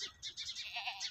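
Several goats on a Punjabi village farm bleat close by in quick overlapping calls, loud and clear with no talking over them.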